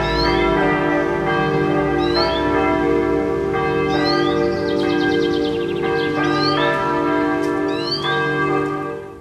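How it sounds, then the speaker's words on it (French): Church bells ring loudly near a church, overlapping strikes with long ringing tones that sustain throughout, a dense bright chime heard close up with no talk. "J'ai enregistré près d'une église, il y avait des cloches"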